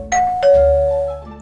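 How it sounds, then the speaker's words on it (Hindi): A cartoon doorbell rings a clear two-tone ding-dong, loud and close, the second note lower and left to fade out. "ओह, दरवाजे की घंटी बजी।"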